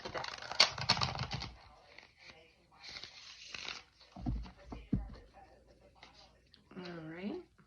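Brisk riffling and flicking of cards in short bursts, alternating with a person speaking softly nearby.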